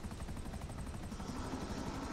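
Helicopter in GTA 5, a steady, fairly quiet rotor thrum with rapid rhythmic blade chopping throughout, no talk.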